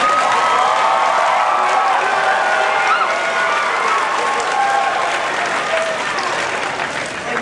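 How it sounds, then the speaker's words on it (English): Crowd at the A-Kon 2003 anime convention costume contest claps and cheers loudly, a dense roar of applause with scattered whoops and shouts, fading slightly toward the end. "Everybody clap for the man with the microphone today."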